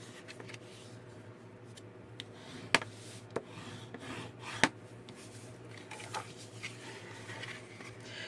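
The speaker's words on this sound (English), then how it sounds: "Now we'll go ahead and burnish all of our lines." Paper being burnished along fold lines with a tool during card-stock crafting of a tea bag folder, a steady soft rubbing rasp with a couple of sharper clicks, close and quiet.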